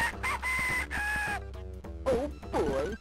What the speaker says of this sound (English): Look, it's a rooster.